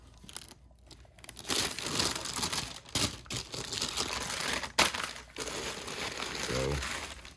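Off-white paper wrapping crinkled and rustled while unboxing an Off-White x Nike sneaker box, close, irregular crackling bursts with a short voice near the end.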